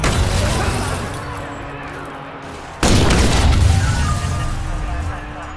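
Gunfire breaks out in the video game Watch Dogs, a sharp burst of loud shots crackling after a steady background hum, with game voices and effects around it.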